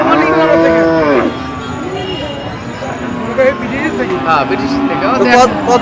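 Cattle moo loudly and repeatedly, long drawn-out calls overlapping one another, with crowd chatter and a passing vehicle in the background at a cattle market in Sirajganj.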